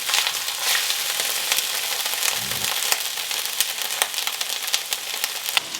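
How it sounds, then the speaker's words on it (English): Four cloves of garlic and two teaspoons of ginger fry in a pan, a loud continuous sizzle with crackling pops and occasional stirring scrapes, no voices. "I'm going to fry them up till they're nice and fragrant"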